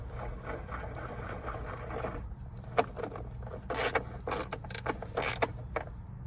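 A Hyundai Tucson battery hold-down is screwed back in, with close metallic scraping, ratcheting and rattling that turns into irregular clicks and clanks over a low steady hum.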